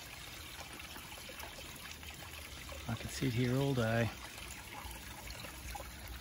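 Creek water running over rocks along an Australian creek, a steady soft trickle in the background while someone speaks briefly over it.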